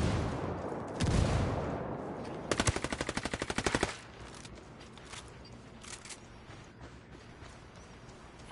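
Rapid bursts of automatic gunfire in a first-person shooter game, a dense volley of close, loud shots around the middle with scattered single shots and muffled combat noise before and after.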